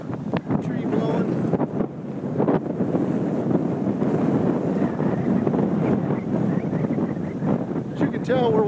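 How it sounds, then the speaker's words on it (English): Strong outdoor wind buffets the microphone near windmills, a loud, continuous gusty rumble and roar while people walk into it and talk. "As you can tell, we're walking into the wind."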